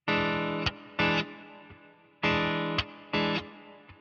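Distorted electric guitar plays a blues rhythm of dotted quarter to eighth note, loud chord stabs in a long-short pattern, alone with no talking.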